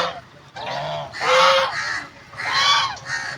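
Ducks honk nearby in a few loud, nasal bursts, one after another, with no talking, in a village.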